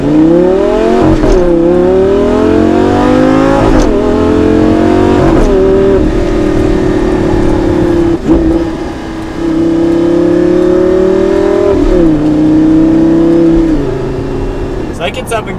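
Lamborghini with a naturally aspirated engine revving hard through the gears, loud rising engine pitch climbing repeatedly with brief drops at each shift, heard from inside the car with voices over it.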